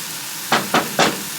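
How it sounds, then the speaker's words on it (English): Garlic fries in hot oil in a pan, hissing steadily, with three brief louder sizzling bursts as it is stirred. "Look, everyone, it's sizzling."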